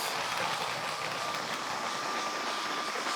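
A steady whirring rumble of a Lego City cargo train running along its track, pulling heavy freight wagons, constant and fairly quiet, with no voices.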